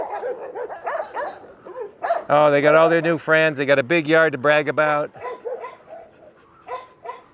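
Two rescued desert dogs, Gus and Rona, in a big yard on moving day, giving a burst of loud, drawn-out yelping barks and howls in the middle, with a person talking before and after.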